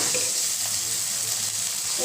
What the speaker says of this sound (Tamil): இப்போ இஞ்சி பூண்டு பேஸ்ட்டு போட்டு வதக்கியாச்சு.